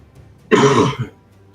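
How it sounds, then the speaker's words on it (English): A single sudden cough bursts out close and loud, a short harsh throat-clearing rasp lasting about half a second before quiet returns. "That cough just snuck right up on me."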